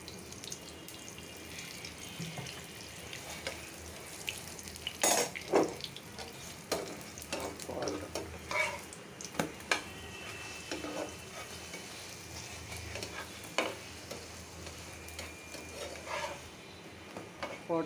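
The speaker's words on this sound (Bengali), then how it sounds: "পরোটাটা ভাজতেছি" Paratha frying in a pan for breakfast, a steady crackling sizzle with scattered sharper pops and clinks of a spatula turning it, close and moderately loud with no talking.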